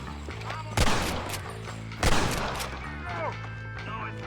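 Gunfire in the video game Red Dead Redemption: two loud, sharp shots about a second apart stand out over a steady music and ambience bed, with fainter shots after them.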